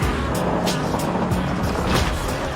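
A McLaren car passing by, heard as a broad, loud engine and road roar that holds steady across the moment, with no talk over it.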